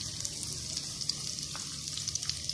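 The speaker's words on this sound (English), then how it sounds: "After it's getting hot, we are adding chopped garlic." Chopped garlic fries in a hot pan with a continuous close, bright sizzle and occasional small pops and spatters throughout, with no voices over it.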